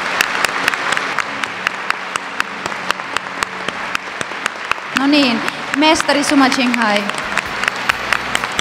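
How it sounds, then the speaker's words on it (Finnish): Audience applause welcoming a spiritual master onto a stage at a gathering in Finland, sustained and steady throughout, with someone speaking over it through a PA system. "Eli suuri aplodi meidän mestarille tässä"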